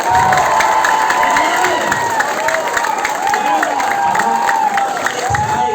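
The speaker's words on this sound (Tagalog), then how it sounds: "Palakpak ka, palakpak!" An audience at a company head office event claps and cheers, a loud sustained mix of applause and excited shouting with voices calling out across the crowd.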